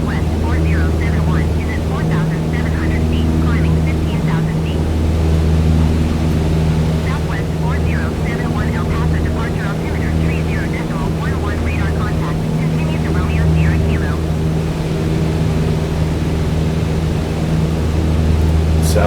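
Airplane engine in flight in Microsoft Flight Simulator 2020, crossing mountains: a steady, loud, unbroken drone with a low hum that holds for the whole stretch, with a voice talking over it at times.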